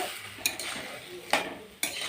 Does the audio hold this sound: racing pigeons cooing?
no